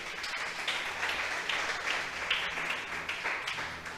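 Church congregation applauding at a Spanish-language service, a steady spread of clapping heard at moderate distance and fairly low level, continuous through the whole span.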